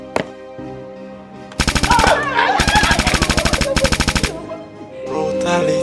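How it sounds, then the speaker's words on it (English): Rapid bursts of automatic gunfire ring out as a salute in a Nigerian movie scene: a single shot first, then loud, close, sustained volleys in several back-to-back stretches, with music or ambience underneath and no talk. "Gunshot salute for the king!"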